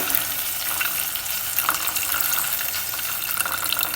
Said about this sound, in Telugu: చింతపండు కలిపిన నీళ్ళు ఒక గిన్నె అంటే చిన్న గిన్నె వేసేసి